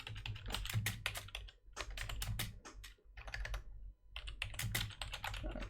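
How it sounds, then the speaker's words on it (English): Close, crisp typing on a computer keyboard, in several quick bursts of clustered keystrokes separated by short pauses, with no talking. "Apologies for using the keyboard."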